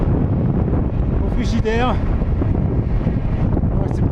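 Cold wind buffeting a microphone on a mountain road under construction between La Paz and Potosí, a steady broadband rumble throughout with a person speaking briefly in the middle.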